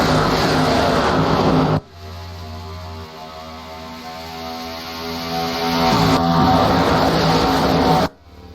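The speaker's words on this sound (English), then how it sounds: "As the cars roar to life off of turn 2" NASCAR race cars at the Indianapolis Brickyard 400 in 2009, engines roaring loud and steady with a harsh, buzzing tone, dropping suddenly between abrupt cuts as the field accelerates off turn 2.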